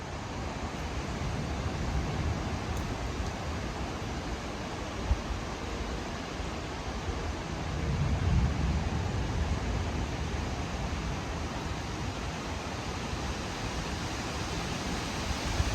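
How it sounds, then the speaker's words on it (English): Steady, dense hiss of rain falling continuously, broad and even throughout, swelling slightly partway through, with no voices. "I hear the rain."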